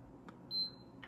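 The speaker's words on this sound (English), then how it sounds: "press and hold power button for until you hear two beeps" A PS5 console gives a single short, high beep while its power button is held, faint against a quiet room with a couple of soft clicks around it.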